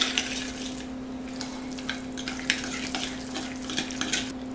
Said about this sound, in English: So I'm going to stir to combine.